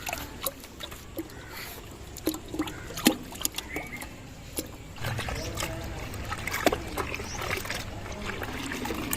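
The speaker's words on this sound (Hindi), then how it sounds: "इसमें डाल के हिला देना है पानी मिक्स करके" Grey paint colour being shaken into water, giving a soft irregular sloshing and rattling with scattered small taps and trickles, close by and fairly steady, with no talk.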